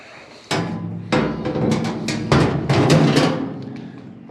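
A metal pan is dropped into a Central Machinery 20-gallon parts washer, giving a loud clanging hit followed by several rattling metallic knocks as it settles.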